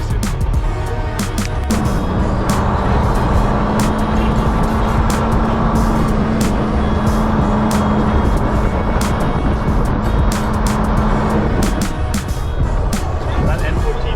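A truck with an N14 diesel engine runs on the road, giving a steady droning hum for about ten seconds over rough, clattering road and cab noise before the tone drops away.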